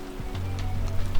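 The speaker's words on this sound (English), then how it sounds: "It really started to rain hard." Hard rain falls steadily on a campsite in Canada, a dense close hiss of drops with faint low hum beneath, no voices.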